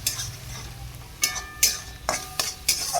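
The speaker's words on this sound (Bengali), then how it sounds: "মশলাগুলোকে ভালো করে নেড়ে দিচ্ছি।" Turmeric, cumin, chili and coriander powders fry with a soft steady sizzle in a kadai, broken by several close, sharp scrapes and clinks of a stirring spoon against the metal.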